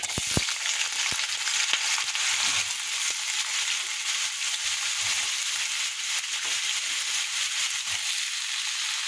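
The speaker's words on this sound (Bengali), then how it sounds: "এই যে আলু ভাজাটা বসিয়ে দিচ্ছি।" Potatoes frying in oil with nigella seeds and dried chilli in a karai, a loud continuous sizzle with a few early spatula taps.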